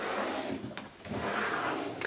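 A makeup drawer slides open with a soft scraping rub, followed by a brief clack, fairly close and quiet.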